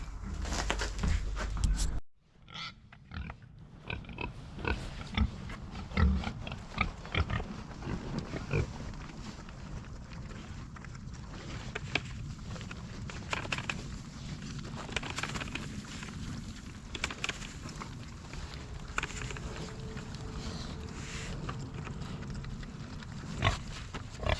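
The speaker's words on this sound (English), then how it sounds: "go feed these other pigs" Pigs grunting at feeding time on a winter homestead, scattered close snuffles and grunts over outdoor background noise after a sharp opening clatter.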